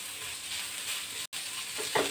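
Chopped garlic and ginger stirred and fried in a pan give a soft, continuous sizzle and hiss. It cuts out for an instant, then resumes with a brief scrape near the end.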